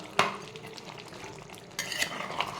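Chicken curry is stirred in a pan, a sharp scrape opening a run of soft spoon-on-metal clinks and wet stirring, with a second louder burst of scraping near the end; close and fairly quiet, no one speaking.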